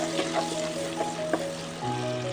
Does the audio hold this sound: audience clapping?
no